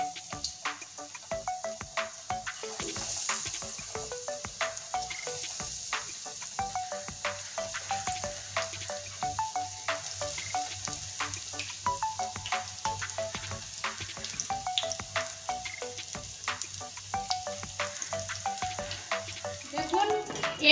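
Raw banana fritters frying in hot oil, a steady, close crackling sizzle with dense popping bubbles that continues throughout, with faint utensil stirring sounds.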